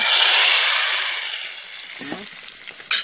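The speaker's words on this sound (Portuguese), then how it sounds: "vamos dourar o alho aqui. Na lenha rapidinho" Garlic sizzles loudly in hot oil on a wood-fired stove, a dense close frying hiss that slowly eases, with light stirring clinks near the end.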